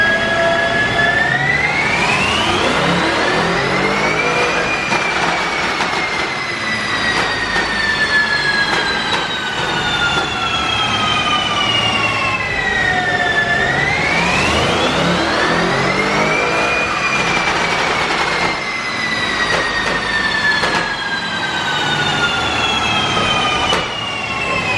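A tuned 2020 BMW M550 runs on a dyno, its engine loud and sustained as revs climb, dip and sweep back up in long repeated pulls, with no voices over it.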